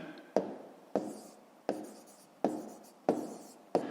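A pen writes by hand on paper for a math exercise, six short, crisp scratching strokes at a steady rhythm, close and quiet.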